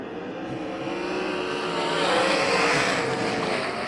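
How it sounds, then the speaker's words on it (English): USAC Southwest Series sprint cars roar together at the start of a heat race at Central Arizona Speedway, a loud, continuous engine drone that swells as the field accelerates into the first turn. "And it will be Tyler Most leading the field into turn number 1"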